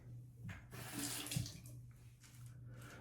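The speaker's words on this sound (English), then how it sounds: "I'm just putting a little bit of water so that the soap is released from the brush." Water runs from a tap onto a synthetic shaving brush, a close, steady splashing stream that swells and eases over a few seconds, with no talking.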